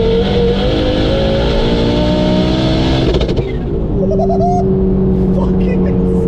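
Turbocharged Ford ST hatchback engine revs hard inside a tunnel, a loud echoing rumble with rising harmonics that drops back to a steady idle drone midway, while people talk over it.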